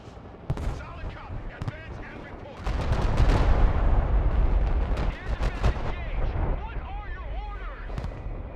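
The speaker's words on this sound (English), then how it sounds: "Nice bombing run from those guys." Bombing-run explosions in the war game Broken Arrow: a sustained roar of heavy blasts and rumbling impacts, loud and dense, with sharp cracks before and after and a voice talking over it.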